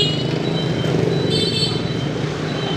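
Steady street traffic in Hanoi's Old Quarter, cars and motorcycles passing in a continuous dense rumble with engine drone, close and fairly loud throughout, no voices.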